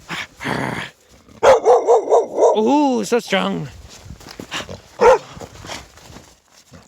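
A female pet dog named Nava gives a few loud, close barks and yips while a person talks and praises her warmly between the barks.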